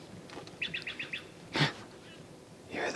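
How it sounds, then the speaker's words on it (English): A bird sings outdoors at a mountain campsite in the Sierra Nevada, giving a quick run of five or six repeated chirps followed by a couple of separate calls, fairly faint against a quiet background. "You hear the bird."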